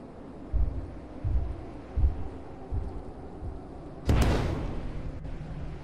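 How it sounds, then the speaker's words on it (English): Explosion in the video game Lethal Company: a sudden loud blast rumbling after a series of low rhythmic thuds like heavy footsteps, with the roar decaying over a second or two. "Did you hear that explosion?"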